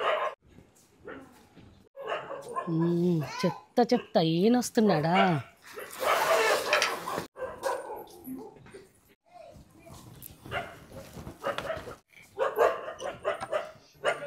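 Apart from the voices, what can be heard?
dogs barking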